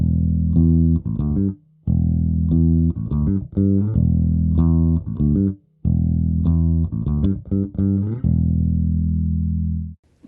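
A bass guitar played through a Fractal FM3/FM9/Axe-FX III modeler with the output EQ engaged repeats a sustained riff in phrases broken by short pauses, sounding close and prominent, alone without voices.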